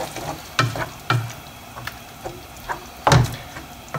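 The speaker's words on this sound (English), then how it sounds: "I'm going to give it a stir so that all of the meat is incorporated" A spoon stirring a meat sauce in a pot, scraping strokes at an uneven pace with a few louder knocks against the pot, over a soft steady sizzle.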